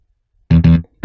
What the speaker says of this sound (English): We used an electric bass, sampled bass guitar, and I'm running it through a virtual guitar amp, giving it some drive.